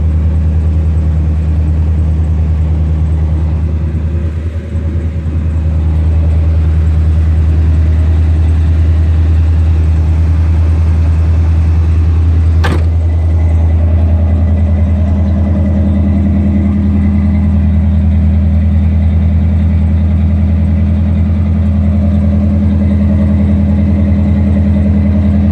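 A 1982 Chevrolet Corvette idles with a deep, steady rumble, loud and close, holding an even low note throughout with no voices and only slight wavering.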